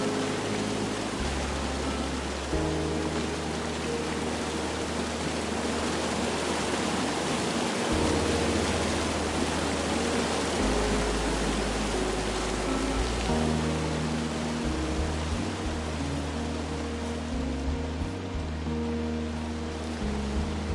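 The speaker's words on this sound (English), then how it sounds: "It's a really nice waterfall down here." A waterfall in the video game Firewatch roars steadily, a dense, constant rush of falling water filling the whole scene, loud and close with no voices.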